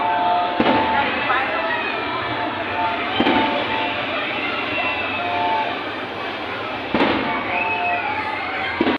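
Fireworks burst at Enchanted Kingdom amusement park in Santa Rosa, a few sharp distant bangs spaced seconds apart over a steady crowd murmur and background din.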